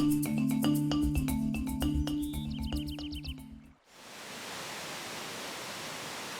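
Music ends abruptly, then the Sadap waterfall in Dusun Sadap, Bangka Tengah, takes over as an even, continuous rushing roar of falling water that holds steady to the end.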